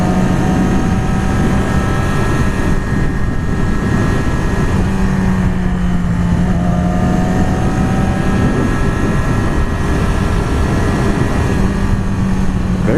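A Yamaha R6 sport motorcycle engine runs steadily while riding, a loud continuous drone with shifting tonal whine and heavy wind rush throughout, no voices.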